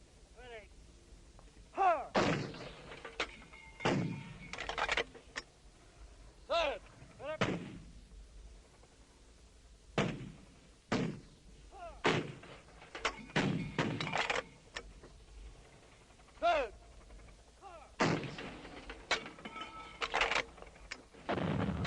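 Artillery shells land in a Vietnam war recording, a long irregular series of sharp, loud impacts and thuds, some in quick clusters, over a quiet background with faint chirping sounds between blasts.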